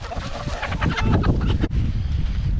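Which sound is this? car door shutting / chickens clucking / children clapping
chickens clucking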